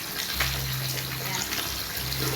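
Tap water runs steadily into a basin for hand washing clothes, a constant close splashing rush with a low hum under it and no talk.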